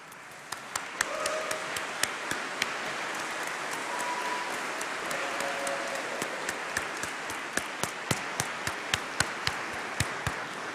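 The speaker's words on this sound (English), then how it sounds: "could you stand up, please, and give them all a big round of applause?" Applause from a graduation congregation audience for families and staff, a soft steady wash of clapping from a large hall, with a few sharper individual claps standing out nearer.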